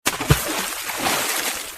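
A cartoon rooster leaps into water, making a single close splash followed by a short stretch of sloshing and spattering.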